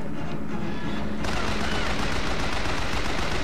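Turret machine gun in Bioshock Infinite firing a loud, continuous burst of rapid gunfire, which jumps in intensity after a quieter opening and keeps up to the end without talk.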